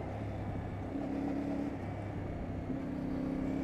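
A CFMoto 450MT motorcycle engine accelerating from close by: a steady, loud drone with tonal rises as it revs up through the gears on a short ride, and no voices.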